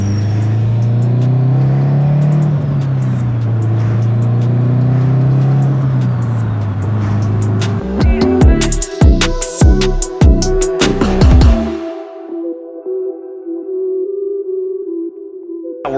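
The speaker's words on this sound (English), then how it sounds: "guys want to hear the turbo?" Subaru STI with a turbocharged engine built to about 450 wheel horsepower, revving hard: a steady drone, then a rapid series of loud sharp blips and pops, settling into a constant high idle whine at the end, no talking.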